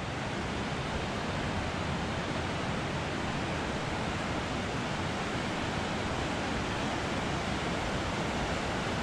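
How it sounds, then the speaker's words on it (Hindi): Loud, steady rush of a fast-flowing river near Kasol, India, a constant broadband roar with no pauses and no voices. "काफ़ी तेज़ बहाव है इधर पानी का, आवाज़ आपको आ रही होगी पानी की।"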